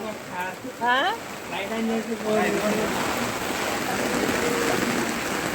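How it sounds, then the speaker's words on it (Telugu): Heavy rain pours onto a flooded street in Kondapalli, Vijayawada, as a constant broad wash of noise; a few brief voices cut through early before the downpour carries on alone. "ఇంత వర్షం పడుతుంది"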